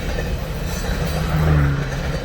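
CN Canadian National train passing at triple tracks, a brief loud rumble of rolling rail cars heard from a vehicle, with a low tone rising under the noise.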